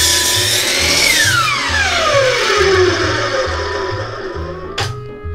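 A slide compound circular saw cuts through several wooden boards stacked together in a single pass, a loud steady whine that drops in pitch under load, then a brief sharp clack near the end as the motor winds down.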